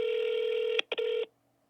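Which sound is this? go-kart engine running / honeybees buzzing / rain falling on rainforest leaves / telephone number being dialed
telephone number being dialed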